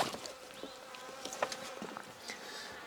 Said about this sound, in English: just this buzz started, and as the sun's rays have started hitting the tops of the trees over here, just the amount of fly activity has just